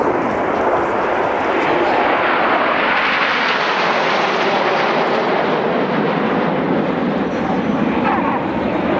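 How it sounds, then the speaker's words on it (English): Eurofighter Typhoon delta-wing jet flying at an airshow, a loud continuous roar that swells and slowly shifts in pitch as it passes, filling the whole stretch with no break. "Delta wing plan form of that Typhoon there."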